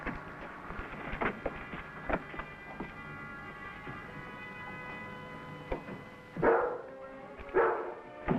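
A dog named Rebel gives a couple of short barks near the end of a tense scene in a 1956 western TV show, set over a steady orchestral backing.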